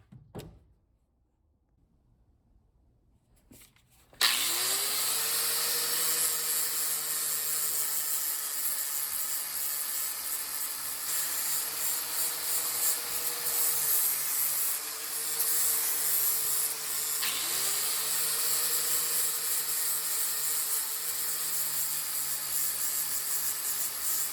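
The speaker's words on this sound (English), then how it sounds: "Just got done with the wire wheel." A wire wheel grinds rust off the loader arms of a Bobcat 743 skid steer. After a few seconds of near silence, it starts with a loud, steady, high-pitched whir and scratch that keeps going to the end, close up and with no voices.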